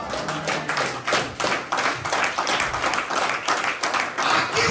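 A church congregation claps and applauds for several seconds, a dense, steady patter of many hands with rhythmic bursts, fairly loud throughout with no speech.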